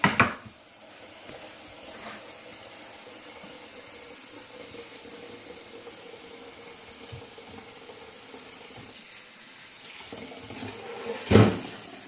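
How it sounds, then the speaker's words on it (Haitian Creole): Boiled water is poured from above into a pot of chicken being cooked Haitian style, a steady close hiss that runs without pause, with a few clinks at the start and near the end. "va mettre un petit de l'eau chauffée, de l'eau bouillie pour me faire chauffer viande là"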